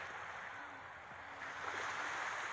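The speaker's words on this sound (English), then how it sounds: "Hear that water?" Water flows nearby on an early morning outdoors, a faint, steady rushing wash that holds evenly throughout with no other clear sounds.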